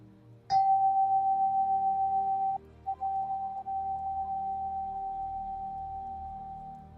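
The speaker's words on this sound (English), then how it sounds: "I'll be sounding this bell" A meditation bell is struck once and rings with a clear, sustained tone that fades only slowly, hanging almost alone over a quiet room for several seconds.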